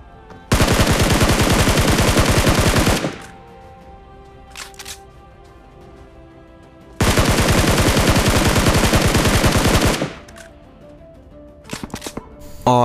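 Sustained automatic gunfire in a battle royale game, two long loud rattling bursts of several seconds each, separated by quieter stretches with a few scattered single shots, close and dominant with no talk.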